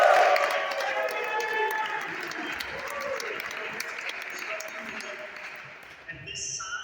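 A rally crowd of Democratic Socialists, gathered for a tax-the-rich and Green New Deal event, claps and cheers in a sustained, dense roar that fades slightly toward the end. A voice carries over the din.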